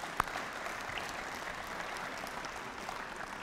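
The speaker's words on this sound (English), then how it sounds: "I think they deserve a great dang round of applause." Audience applause at a high school football Ring of Honor ceremony, a steady wash of clapping from a crowd that holds evenly throughout, with one sharp louder clap near the start.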